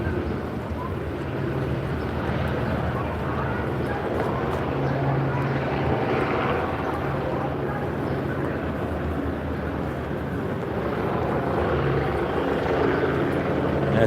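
Helicopters hovering overhead in downtown Los Angeles during a National Guard deployment, a steady loud droning rotor thrum filling the air continuously with distant street background beneath.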